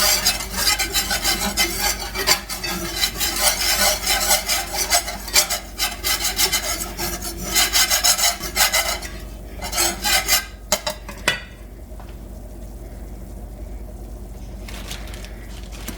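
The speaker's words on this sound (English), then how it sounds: "So we're simply going to use our whisk and make a paste." A whisk scraping and stirring flour into a paste in a pan, a steady, close rhythmic rasping that stops near the end, leaving quiet background.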